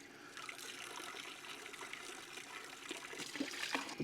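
Water streams from the hose of a Milwaukee M12 water transfer pump, a steady broadband rush and trickle that holds at a moderate level throughout, with no talking.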